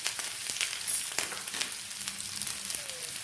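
Grated coconut fries in a mustard seed tempering for a pumpkin dal curry, giving a soft steady sizzle with a few light clicks and stirs, close but quiet.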